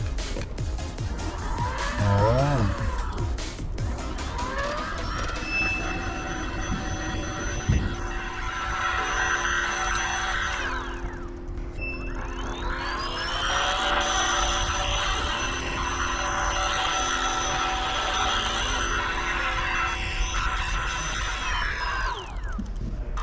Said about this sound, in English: For me this motor works not noisy, and basically noise is good, but different than Bafang.